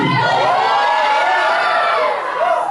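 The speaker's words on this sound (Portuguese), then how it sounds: "Se tem poder aí, dá um grito de júbilo." A church congregation at a cell group meeting shouts and cheers for joy. The loud, continuous crowd noise is full of whoops and raised voices throughout.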